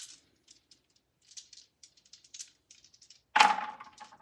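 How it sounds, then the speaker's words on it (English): Checkers rattling on a cork-backed antique Crisloid board, heard as faint, scattered light clicks followed by one louder clattering burst of pieces near the end, with no talking. "There's that cork sound people either love or hate."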